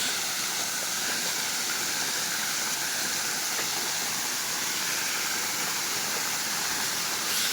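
Twin waterfalls near Kanyakumari, a steady, loud broadband rush of falling water that continues unbroken throughout, with no voices.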